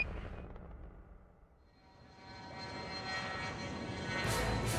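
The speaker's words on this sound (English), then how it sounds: "NASA pilots test the X-15 rocket plane." A NASA X-15 rocket plane engine roars, rising from a low rumble to a loud, broad, sustained blast that builds steadily toward the end.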